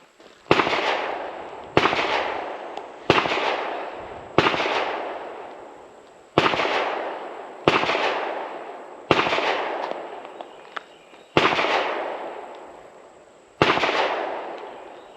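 Gunfire from another shooter at an outdoor shooting range, eight sharp loud reports spaced about one to two seconds apart, each followed by a long fading echo, with no talk.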